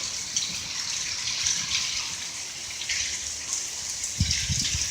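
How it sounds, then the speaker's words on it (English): Steady pattering of small ice pellets striking surfaces, a dense continuous clatter with occasional louder nearby hits. "it's not even rain anymore, it's complete hail"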